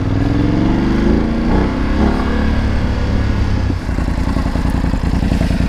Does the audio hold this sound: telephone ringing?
no